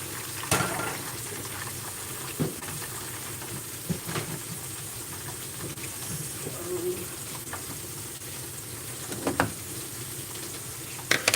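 A stick of butter melts in a hot pan on a home stove with a soft, steady sizzle and hiss, broken by a few faint clicks and knocks.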